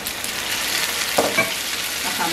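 Mango adobo ingredients sizzle continuously as they fry in a pan, with a couple of brief stirring scrapes partway through and no speech.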